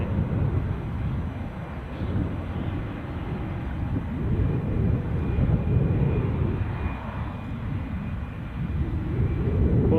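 Aircraft engine spooling up in the background at Edinburgh International airport, a steady broad low roar that swells gently and holds throughout, with no talk.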